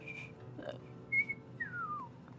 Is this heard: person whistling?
yes